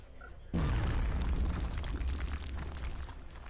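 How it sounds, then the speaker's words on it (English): A grenade detonates in the video game X-COM: Enemy Unknown, a sudden loud booming blast after a brief quiet moment, followed by a long rumbling decay of debris and crackle. "And a grenade!"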